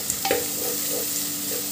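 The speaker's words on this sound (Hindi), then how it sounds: "प्याज डालने के बाद इसको मिला देंगे, मिक्स कर देंगे" Onions stir and fry in a pan, giving a steady close sizzle with a few scraping stirs of a spoon near the start.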